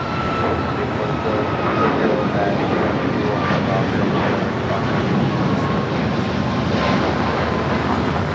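A heavy Airbus airliner passes overhead at Los Angeles International Airport, a steady, loud broadband jet roar filling the whole stretch without a break.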